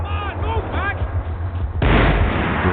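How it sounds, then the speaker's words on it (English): Gunfire heard from long range in the video game Max Payne 3, with muffled booming shots and a heavy burst near the end over dense low rumble and background game sound. "The bullets came from long range."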